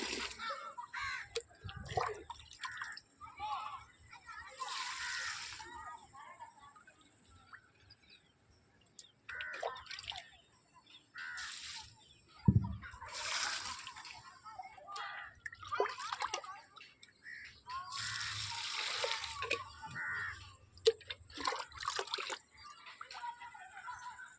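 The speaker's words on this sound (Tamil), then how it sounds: "இப்போ தண்ணி கல்நீர் தண்ணி எல்லா செடிங்களுக்கும் கொடுக்க போகிறேன்" Soft splashing and trickling water poured onto plants in intermittent bursts, with faint birdsong and occasional quiet voices in the background.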